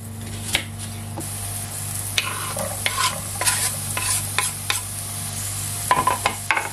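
Food browns in a hot pan for a stuffed butternut squash dish with ham and reblochon, giving a steady sizzle and frying hiss with light stirring scrapes and clicks and a low background hum, and no one speaks.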